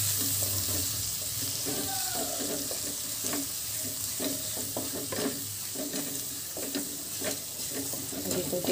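Capsicum and tomato curry with chilli powder and turmeric frying in a pan, a steady close sizzle with stirring scrapes and clinks through the clip and no talk.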